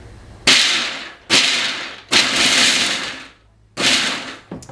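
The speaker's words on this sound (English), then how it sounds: "It says to pulse it. It's gonna get kind of noisy." A food processor pulses almonds four times in short bursts, each a loud whirring grind of chopping that stops abruptly between pulses.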